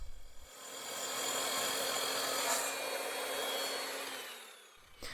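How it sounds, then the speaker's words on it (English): A miter saw cuts angles in walnut stock, a single steady whirring cut that swells and fades over a few seconds with a rasping bite through the wood, moderately loud and alone. "Then I took it over to my miter saw and started cutting the angles that I would need for the base."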